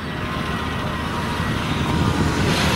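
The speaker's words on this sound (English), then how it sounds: "Or is that an airplane behind me?" USAF Thunderbirds jets flying over Los Angeles in May 2020, heard as a steady, loud roar that swells slightly toward the end, with no talking.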